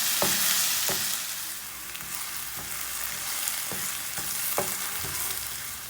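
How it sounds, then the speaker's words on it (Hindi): Potatoes frying in a pan, a steady close sizzle broken by a series of sharp spatula strokes scraping and turning them at an irregular, unhurried pace; no one speaks. "आलू डाल के 1 मिनट तक भून लेते हैं"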